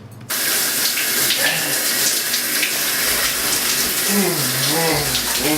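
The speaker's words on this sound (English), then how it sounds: "Go ahead, shut that shower down." A shower runs in a steady, close hiss of spraying water that starts abruptly after a brief quiet moment and continues, with faint muffled tones underneath.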